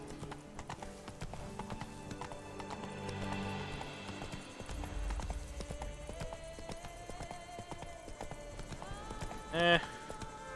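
Hooves clip-clop in a quick, steady cantering rhythm in the video game The Witcher 3, with a brief whinny near the end, a voice talking over it.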